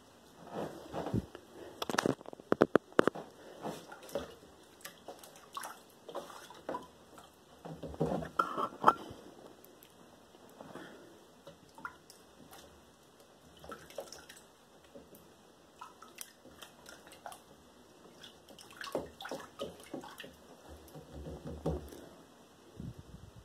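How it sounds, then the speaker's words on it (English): Water splashes and drips as a cyanotype print is rinsed, with soft irregular trickles and wet squishes coming in uneven bursts close by, quiet throughout with no talking. "take it out and rinse it back off with water and then let it dry"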